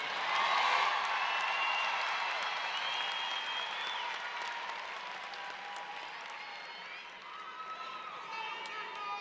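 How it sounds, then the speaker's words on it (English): Sustained applause from a large audience at a Bowie State University spring commencement, honoring graduates, a dense steady wash of clapping that tapers slightly midway and holds on, with faint voices mixed in. "Let's give them a round of applause."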